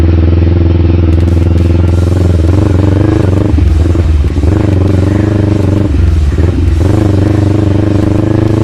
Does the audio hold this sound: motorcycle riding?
yes